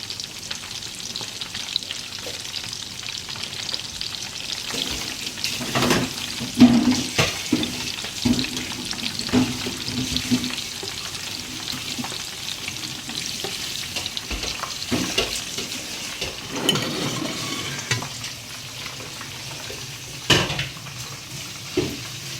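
Besan-battered beguni and aloo chop sizzle steadily in hot oil for iftar, a continuous crackling fry broken by occasional clinks and scrapes of a utensil against the pan.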